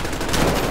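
Gunfire in the Call of Duty Modern Warfare campaign, heard as a short, dense burst of loud, rapid shots.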